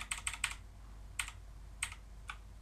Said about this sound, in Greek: Είναι ένα πάρα πολύ όμορφο και βολικό πληκτρολόγιο.